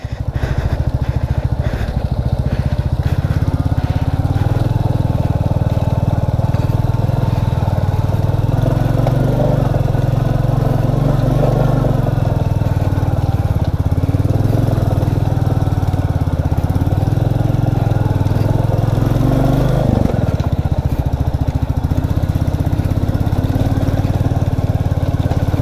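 A Royal Enfield Classic 350 motorcycle runs steadily off-road on the way to Kalu Waterfalls, its single-cylinder engine thumping loud and close for the whole stretch, briefly dipping and recovering near the end.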